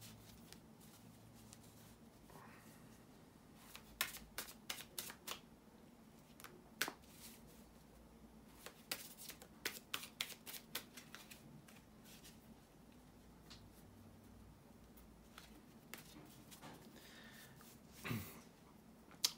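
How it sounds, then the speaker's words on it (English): Tarot cards shuffled by hand, a series of soft, papery riffles and slaps in short bursts over quiet room tone, fairly close and faint, with no talking. "bear with me a second, guys, to shuffle the tarot cards"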